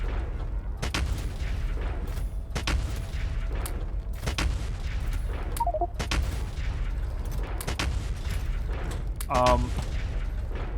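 Factorio artillery shelling worms and nests, a steady series of sharp, evenly spaced booming shots over a constant low rumble, roughly one every second, close and loud under a speaking voice.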